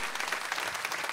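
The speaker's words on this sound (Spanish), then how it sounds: "ahí va un aplauso por favor" Steady, dense applause from a church congregation, moderately distant and even throughout, with no voices standing out.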